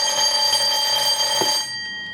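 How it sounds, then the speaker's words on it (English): An electric fire alarm bell rings continuously and loudly during a test with a harsh metallic tone, then cuts off, leaving a faint ringing hum. "Fire alarm test went off."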